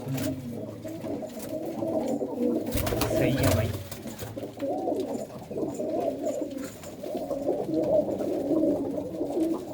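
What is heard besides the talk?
pigeons cooing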